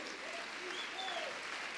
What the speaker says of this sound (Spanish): Dele palmas al Dios de la gloria